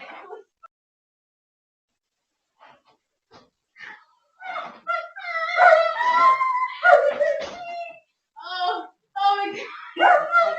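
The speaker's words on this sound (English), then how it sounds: "you can hear the dogs barking" Dogs whimper, yip and bark in high-pitched bursts, close by, with a person's brief exclamation early on.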